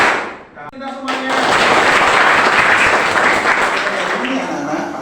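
Loud classroom clapping from children joining in a clapping song, a dense burst of hands rising after a short sung phrase, with voices singing over and around it.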